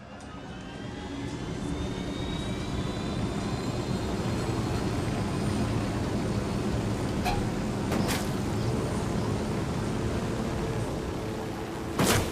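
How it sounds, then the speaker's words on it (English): Helicopter flying in the video game Ghost Recon, a steady loud rotor and engine drone that holds for the whole stretch, with a couple of sharp brief clicks near the end. "helicopters in this game are very"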